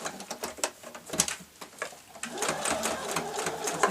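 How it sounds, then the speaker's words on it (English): A sewing machine runs in quick rattling bursts, needle tapping rapidly as it sews a securing stitch close to the edge through layered slipper fabric, close up and moderately quiet, with brief pauses between runs. "I'm sewing quite close to the edge, because this is just a securing stitch"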